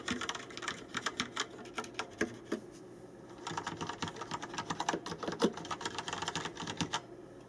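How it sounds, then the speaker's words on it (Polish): Typing on Rapoo V500 and V700 mechanical keyboards, fast bursts of close, clicky keystrokes in two runs separated by a short pause, fairly quiet overall. "Dam Wam teraz małą próbkę głośności tych klawiatur."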